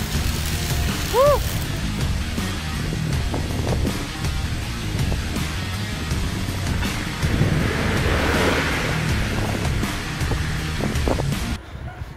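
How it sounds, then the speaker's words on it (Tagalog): Strong gusting wind roars steadily over the microphone while cycling a ride through Laguna, broadband rushing buffeting throughout with a brief rising tone near the start and no speech. "So yun, lakas nga ng hangin."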